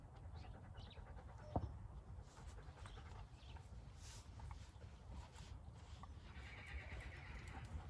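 A horse whinnies faintly in the distance over a steady outdoor background, with a few soft hoof clops and scattered animal sounds.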